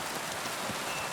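Steady dense rain pours during a storm in the video game Kingdom Come: Deliverance, a broad, even hiss of drops on surfaces with no voices over it.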